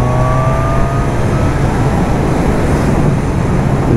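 A Honda Hornet 1000 motorcycle accelerating in sixth gear from 80 to 100 to overtake, a loud continuous engine roar with rising pitch and heavy wind rush, close and steady.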